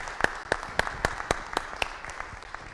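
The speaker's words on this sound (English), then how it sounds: "Round of applause for Jim McIngvale." A few people clap at a university speaker-series evening event, sparse distinct claps in a quick uneven rhythm that fade toward the end, fairly faint overall.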